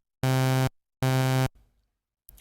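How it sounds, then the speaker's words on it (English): A bright, harmonically rich synthesizer note with envelope attack at zero plays twice, each jumping instantly to full level, holding steady for about half a second and cutting off. Faint rustle and a brief noise follow. "So if I press a note with the attack at 0 here,"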